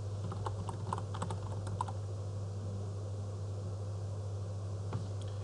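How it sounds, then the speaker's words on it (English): Typing on a computer keyboard, a short run of quick light key clicks in irregular bursts over a steady low electrical hum, then quiet with one last isolated keystroke. "and then I'm going to type in the word"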